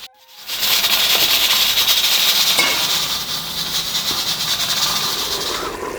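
Steam hisses loudly and continuously from a pressure cooker being opened while shaljam gosht (turnip and meat curry) cooks, a broad sustained rush starting abruptly and staying strong for several seconds with no talking.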